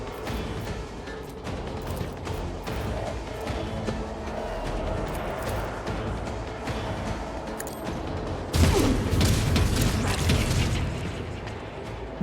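Gunfire in the Rogue Trader video game, a steady dense barrage of shots and booms over a low rumbling game soundscape, swelling louder and brighter for the last few seconds.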